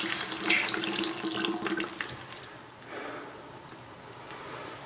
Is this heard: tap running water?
yes